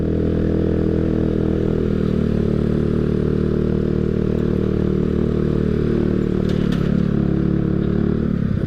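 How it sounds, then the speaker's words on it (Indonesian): A motorcycle engine labors up a steep climb on a ride to a hillside cafe, a steady loud drone with a rough mechanical clatter holding throughout, close and continuous with no talk. "Harus kuat ini motor."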